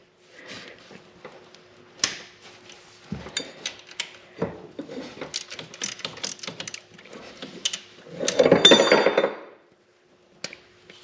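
Someone works loose four 16 mm bolts on a 2014 Dodge Grand Caravan during a thermostat replacement. There are scattered metallic clicks, ratchet ticks and tool clinks at close range, with a louder rattling burst near the end and no talking.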